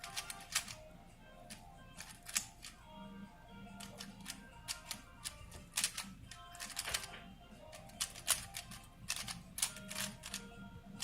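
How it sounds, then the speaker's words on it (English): Rapid, uneven clicking of a computer keyboard being typed on during an online speedcubing championship entry, with bursts of keystrokes throughout, fairly close and unaccompanied by talk. "So he is using a keyboard for this entry in the contest."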